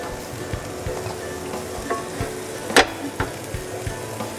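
An egg frying in a hot pan with oil: a steady, soft sizzle with scattered light clicks and taps and one sharp scrape near the middle, close and moderately quiet, with no talk.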